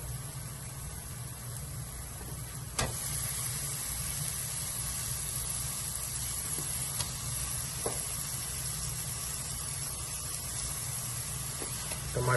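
Tomatoes dropped into hot roasted masala in a pan for urad dal, a steady broadband sizzle and hiss that jumps louder after a few seconds and continues evenly, fairly close.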